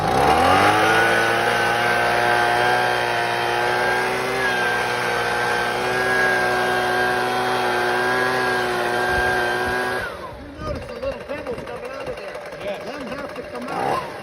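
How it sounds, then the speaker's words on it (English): Leaf blower running close and loud, clearing debris out of alligator cracks in asphalt pavement before patching; a steady engine roar holds for about ten seconds, then cuts off, leaving quieter rumbling handling noise. "once you got the blower going, what do? We got to clean out all the debris that's inside the cracks"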